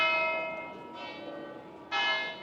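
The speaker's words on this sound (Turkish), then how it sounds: "Çan çalıyor şu an." A church tower bell in Venice rings out, two resonant strikes about a second apart, the tone lingering and decaying between them.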